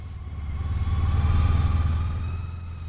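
A motorcycle rides steadily past a hotel on the road from Ronda to Martos, its engine droning low and close with a slight swell in the middle of the pass.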